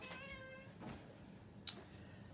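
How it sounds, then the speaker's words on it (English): A house cat meows once, a drawn-out tonal cry followed by a softer short mew, heard indoors in a home studio over a low room hum with a brief bump near the end. "there goes my cat"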